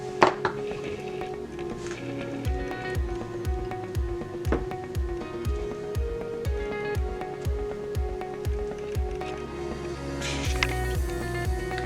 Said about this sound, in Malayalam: ഞാൻ ഇതിനെ ഒരു 2 സ്പൂൺ അങ്ങോട്ടിട്ട് മിക്സ് ചെയ്യാൻ പോവുകയാണ്